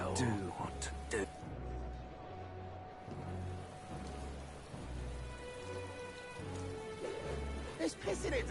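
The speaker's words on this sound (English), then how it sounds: "Oh, I hate the rain." Rain falling in the video game Metaphor: ReFantazio, a steady wash of drops heard alongside in-game speech and a low rhythmic music or ambient pulse.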